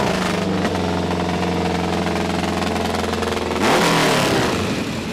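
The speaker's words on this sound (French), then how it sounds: "Que dire devant les MV Agusta, dont le rugissement fait passer les sonorités des autres pour de vagues" An MV Agusta motorcycle engine roars loudly and steadily nearby at the Isle of Man Tourist Trophy races, then revs up sharply near the end with a rising growl.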